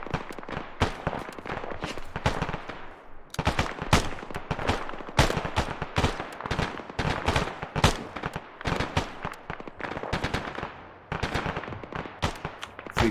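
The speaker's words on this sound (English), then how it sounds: "More outgoing fire. 1 round every 3 seconds, please." Steady outgoing gunfire in the military shooter game ArmA, dense bursts of sharp shots repeating through the whole stretch with only brief gaps, loud and close.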